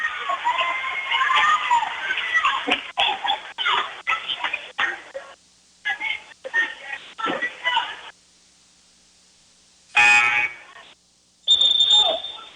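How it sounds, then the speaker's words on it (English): Scorer's table buzzer at a girls high school basketball game, Marysville at Wamego, sounding twice: a loud harsh buzz of about a second, then a shorter tone after a brief pause, following stretches of commentator talk. "Hit the buzzer there to get the official back."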